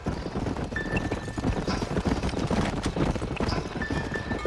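Horse hooves clip-clop steadily in a Western video game, a dense run of close, overlapping hoofbeats on dry ground with a faint whinny-like tone drifting through, no voices over it.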